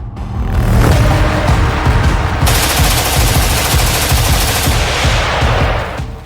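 Gunfire as criminals fire on police in Masaurhi near Patna, dense rapid bursts of shots merging into a loud, continuous crackling roar that runs almost the whole clip before cutting off, with no voices.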